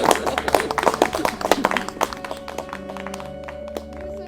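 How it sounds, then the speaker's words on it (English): Wedding guests clap for the newlyweds with a burst of sharp, close, uneven claps. The clapping thins out as tonal music swells in and carries on alone. "please be upstanding and give a big cheer for the brand new Mr. and Mrs. Barrett"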